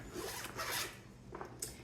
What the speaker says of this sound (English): is a plastic zipper, and I don't know what the zipper is.